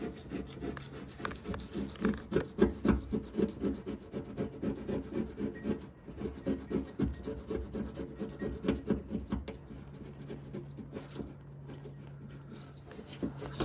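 Adhesive residue being scrubbed off a surface with lubricant: rhythmic back-and-forth rubbing strokes, close and fairly loud, in steady bursts with a short pause midway and lighter rubbing toward the end.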